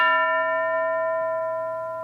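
A school bell is struck once, leaving a clear ringing tone that slowly fades away.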